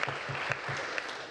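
Applause in a legislative chamber, a brief burst of many hands clapping at a moderate distance, fairly soft and fading quickly.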